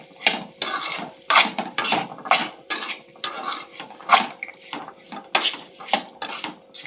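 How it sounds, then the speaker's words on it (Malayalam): Repeated scraping and clinking of a utensil against a pot while a pickle mixture with asafoetida powder is stirred, uneven bursts about every half second, close and fairly loud, with a brief cough in between. "നല്ലവണ്ണം ഇളക്കി കൊടുക്കാം."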